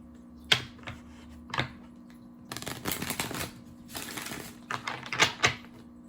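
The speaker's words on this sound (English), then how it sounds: "I'm going to pull some energy oracle cards." Energy oracle cards being shuffled and pulled: a few crisp single flicks, then two longer riffling bursts of cards sliding together, followed by more snaps as cards are drawn, close and moderately loud with no talking.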